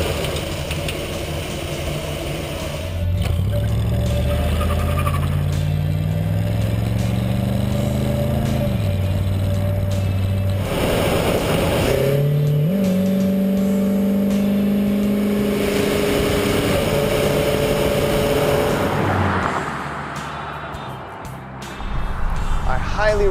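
Vintage V8 car engine running on the road after a carburetor swap, its steady mid-pitched drone rising and falling through gear changes as it accelerates, loud and continuous under a voice talking over it.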